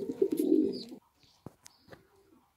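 Homing pigeons coo in a loud, close burst of throaty calls, then fall mostly quiet apart from a few short clicks and faint chirps.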